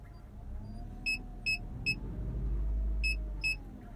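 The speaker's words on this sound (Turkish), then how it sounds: "park sensörü ötmeye başladı" A car's parking sensor beeping during parallel parking in the street, sharp, clear electronic beeps in short irregular bursts over a low engine idle, with no voices.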